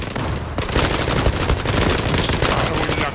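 Rapid gunfire in the online shooter game Zula, dense bursts of automatic fire with sharp repeated cracks, loud and sustained after a brief lead-in.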